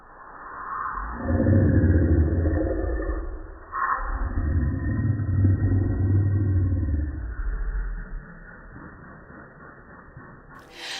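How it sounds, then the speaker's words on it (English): A deep guttural growl of unknown origin rumbles underwater, a low, heavy drone swelling over several seconds, dipping briefly, then resuming before fading into a faint hiss. "it sounded like a deep and guttural growl"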